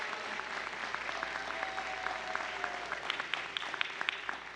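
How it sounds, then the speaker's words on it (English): An audience at an NAACP justice forum held in a Baptist church applauds a guest speaker, the clapping rippling and scattered at moderate volume with sharp individual claps standing out toward the end. "Can we give her a round of applause?"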